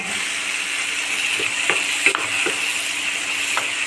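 Tomatoes sautéing in a pan for rava bath, a steady close sizzle with a few light spatula scrapes and taps scattered through, no talking.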